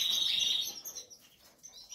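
Small birds chirp in a brief, bright burst of high tweets that trails off into faint, scattered calls.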